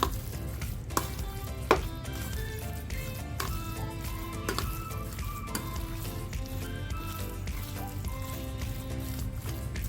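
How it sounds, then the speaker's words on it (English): Pork filling with Shaoxing wine is stirred and mixed in a bowl, giving continuous wet squishing and scraping with a few sharper clinks, fairly quiet and close, with no talk over it. "Okay, mix it."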